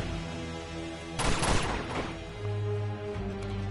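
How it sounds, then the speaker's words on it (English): Gunfire in the Uncharted 2: Among Thieves video game, a short burst of rapid shots over a steady game music bed, fairly loud and close, with no talk. "Shooting at the air, bro."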